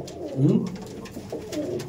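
Abluk pigeons cooing nearby in a loft, a couple of low throaty coos that swell and fade over a soft background, with a person's voice faintly mixed in.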